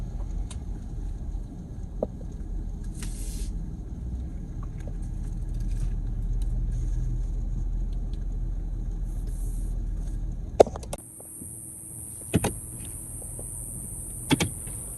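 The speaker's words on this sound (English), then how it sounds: "for some reason, a whole lot of traffic through here today" Road traffic passes near rural Florida land: a steady, loud low rumble of vehicles builds and fades over several seconds, then quieter moments broken by a few sharp clicks and knocks.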